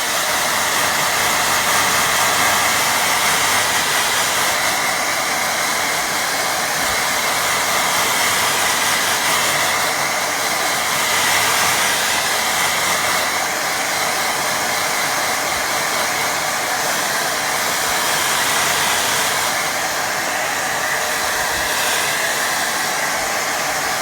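A hair dryer runs continuously and loudly at close range over a watercolour painting of flowers in grass, a steady airy roar with slight swells as it is moved, with no speech.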